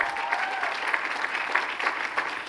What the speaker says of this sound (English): Please, a round of applause for Yvette Clark.